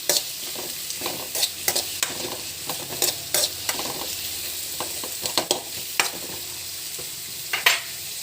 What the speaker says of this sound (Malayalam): പിന്നെ ഇളക്കി കൊടുക്കുക നല്ലപോലെ.